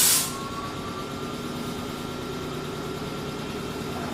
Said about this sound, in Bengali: ট্রেনটি আস্তে আস্তে থামতে শুরু করলো